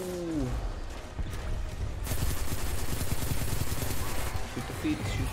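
Gunfire from the Destiny 2 Gambit game mode, a steady run of dense rapid shots that grows louder midway and continues without a break, with game sounds and voices mixed underneath.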